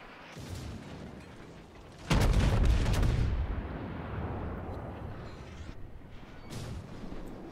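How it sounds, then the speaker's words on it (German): Secondary guns of the battleship Scharnhorst firing in World of Warships: a sustained rumble of booming naval gunfire that swells abruptly into a heavy, dense barrage, then settles into continuous rolling explosions. "Die Sekundären natürlich hier schon am Schießen."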